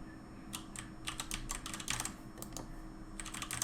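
Computer keyboard arrow keys pressed in short scattered taps over a low steady hum, quiet and close, with no voices.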